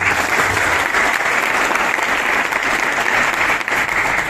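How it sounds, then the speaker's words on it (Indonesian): A large crowd of students at a national defense training event claps loudly and continuously, a dense, even wash of applause with no break and no speech on top. "Tepuk tangan untuk kami."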